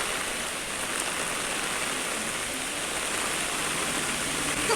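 Steady rain falling outside a house by a gate, a constant even hiss of moderate loudness with no breaks.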